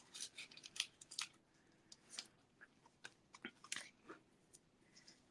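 Scissors snip through dimensional paper shapes in a series of close, crisp cuts, irregularly spaced with short pauses between clusters, fairly quiet and with no talking.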